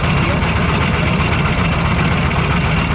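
Small steam engine running with safety valves nearby, a loud, steady mechanical churn and low rumble with constant vibration and no break.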